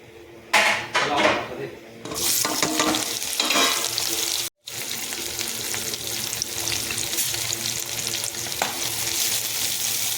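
Mustard seeds spluttering and crackling in hot oil for a tadka, a loud dense sizzle near the pan after a brief clatter of utensils, with a short break midway; a voice is faintly heard early on.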